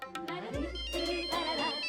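A telephone ringtone in an Indian sitcom household plays as a bright repeating electronic melody, close and clear, with a voice briefly heard alongside.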